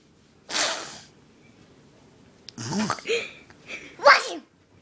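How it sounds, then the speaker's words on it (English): A woman lets out a series of loud, close sneezes, three or four sharp bursts spaced a second or so apart, with quiet breathing between them. "Can't stop sneezing."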